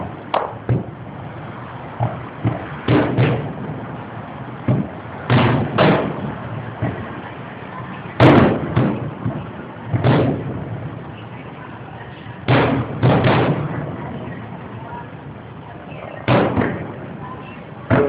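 Summer night fireworks at the Westside Midway tattoo area in San Diego on Labor Day, with irregular distant booms and bangs recurring every few seconds, some in quick pairs, and faint crowd chatter and voices between bursts.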